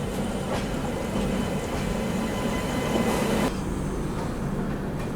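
Anand Vihar Terminal–Madhupur Humsafar Express rolling past at close range, a steady loud roar of wheels and carriages with rail clatter that drops off sharply near the end as the train clears.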